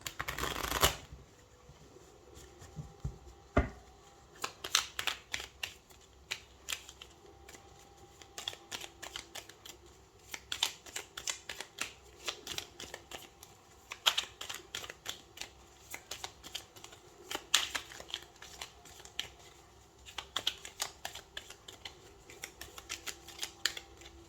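Tarot cards being shuffled for a reading, a soft, close, steady riffling and sliding of cards with irregular brief clicks, heard alone and fairly quiet.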